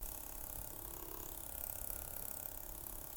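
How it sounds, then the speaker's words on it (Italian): A cheap laptop's internal cooling fan grinds with a steady mechanical whir running unbroken throughout, with a rough, rattly texture, fairly quiet and close. "c'è una ventola di raffreddamento interna, che parte e fa questo rumore bruttissimo"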